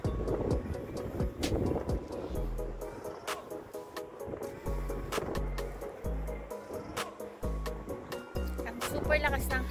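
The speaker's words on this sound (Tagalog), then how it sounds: "Ang super lakas ng hangin." Strong wind buffets the microphone outdoors by Lagoona Mall, with loud gusty rumbling throughout while people talk and children play nearby.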